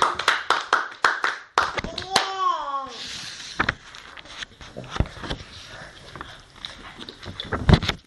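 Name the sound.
congregation clapping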